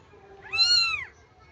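A mother cat with her two kittens gives one clear, close meow that rises and falls over about half a second, with quiet room background and no talking.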